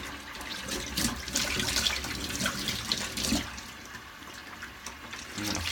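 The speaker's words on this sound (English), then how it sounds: "I'm going to do a quick rinse." Water runs from a bathroom tap as someone rinses after a shave. The splashing is steady and close, with uneven surges and spatters and no talking.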